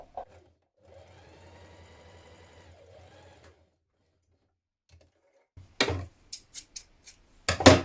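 Domestic sewing machine stitching a seam along the short edges of children's dungarees fabric, a steady mechanical whir lasting a few seconds, followed after a pause by several sharp, close snips and clicks.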